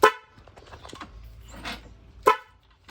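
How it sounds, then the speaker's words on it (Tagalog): A vehicle horn with a four-tone musical sound blasts in sharp bursts, one at the start and another near the end, with softer tones and engine rumble between them. "Apat na busina."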